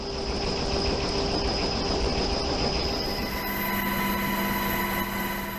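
A steady, loud mechanical roar with a constant engine whine from a rescue helicopter hovering close by over the sea, droning without pause.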